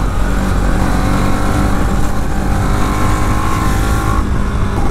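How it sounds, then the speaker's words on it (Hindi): Yamaha R15 v3 and Bajaj NS 200 motorcycles ride through a tunnel at dawn, a loud, steady, echoing engine roar with sustained revving that fills the whole stretch without pause. "काफ़ी गूंज रही थी आवाज़ बाइक्स की"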